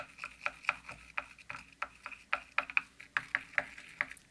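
The end of a paintbrush stirs water and glycerin in a small container, making a quick run of light ticking and scraping knocks, close and fairly faint, with no talking.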